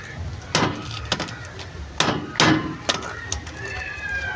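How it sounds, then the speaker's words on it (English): A hand hammer strikes repeatedly during manual drilling of a shallow borehole in Africa, about six or seven sharp, irregularly spaced metallic blows close by, with some talk and outdoor ambience. "We hit with the hammer, guys."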